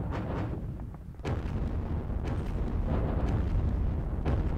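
Heavy artillery guns firing in the Panzer Battles Kursk wargame, a continuous rumbling barrage of booming blasts with several sharper reports standing out, loud and close with no talking over it.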